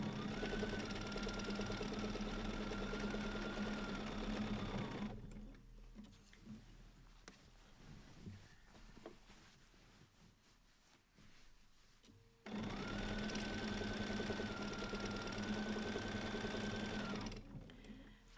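Sewing machine running steadily during free motion quilting, a sustained whirring motor hum in two long bursts of about five seconds each, separated by a quieter stretch of faint rustling and handling noise.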